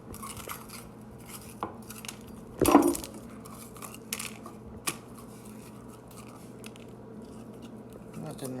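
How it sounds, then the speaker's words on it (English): A knife cuts a bell pepper for barbecue-roasted vegetables, giving one louder close chop among a few lighter scattered knife taps over low background hum. "So I'm just gonna quickly cut my pepper."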